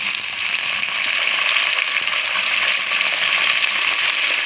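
Curry leaves frying in hot oil on full flame, a loud, steady, close hiss and sizzle that holds without a break.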